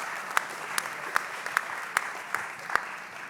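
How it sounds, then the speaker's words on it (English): Audience applause at a book launch in Lagos, heard as a steady wash of clapping with sharper individual claps standing out at an even pace, moderately loud and without talk. "Round of applause."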